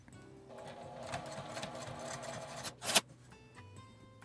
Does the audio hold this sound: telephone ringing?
no